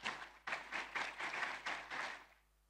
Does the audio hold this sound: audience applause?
yes